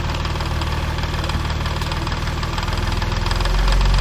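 A Mazda MX3 with a K8 V6 engine idling close by, a steady even rumble with a rhythmic pulse that deepens and grows slightly louder toward the end.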